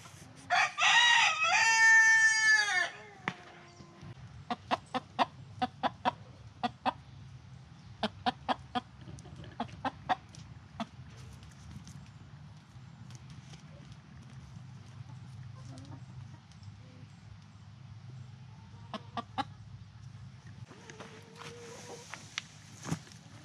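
A rooster crows loudly at the start, followed by scattered sharp clucks and taps over a steady low hum, with a few faint clucks later on.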